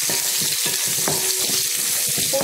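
Onions sauté in a hot pan for pumpkin sambar, giving off a loud, continuous sizzle with soft scraping and stirring knocks throughout.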